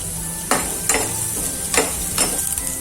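Small potato pieces frying in a hot pan for sabudana khichdi, with a steady close sizzle and four distinct scraping stirs spaced roughly evenly through it.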